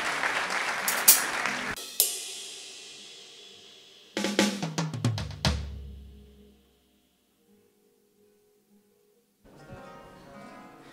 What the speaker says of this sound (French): Vous pouvez l'applaudir et nous chanter quelque chose.